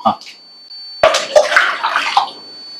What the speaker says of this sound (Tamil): வாட்டர் ஃபில் பண்ணிடலாம்